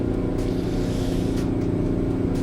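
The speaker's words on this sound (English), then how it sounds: "It's a bit of an old school diesel Detroit V12, this." An old-school Detroit 12V71T diesel V12 truck engine in American Truck Simulator drones steadily with a deep, throbbing exhaust note, moderately loud and continuous without any talk.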